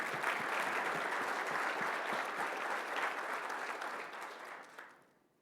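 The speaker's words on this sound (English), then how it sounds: "Can we give all of our speakers a huge round of applause" An audience at a leadership and strategy event applauds the speakers in a dense, steady round that holds for several seconds and then fades out at the end.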